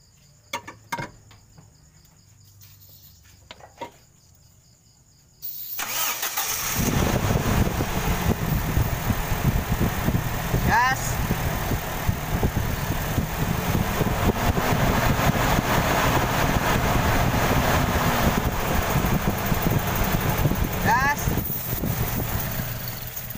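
A petrol Toyota Kijang Innova engine, with cleaner sprayed into the carburetor, starts after a few quiet seconds and settles into a steady, loud, close idle that runs on to the end.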